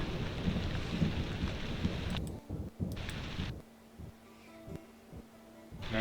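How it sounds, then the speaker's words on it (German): A loud thunderstorm rumbles in a video game, with heavy steady rain and thunder filling the first half before it cuts out abruptly, leaving faint hum and a few clicks. "das Gewitter ist ja laut"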